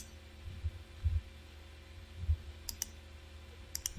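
Computer mouse clicking faint and close, a few sharp clicks spaced apart, with soft low thumps, over a quiet steady hum.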